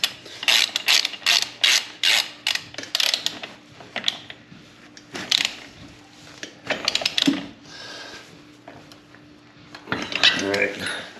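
Ratchet wrench cranking a bottom bracket tight during a Super73 10-speed kit install on an RX Mojave e-bike, heard as bursts of quick metallic clicks that pause and resume, close and moderately loud.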